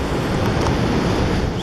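Strong wind beside a lake at Lenwade, Norfolk, buffeting the microphone in a loud, continuous low roar with a steady hiss on top and no talk.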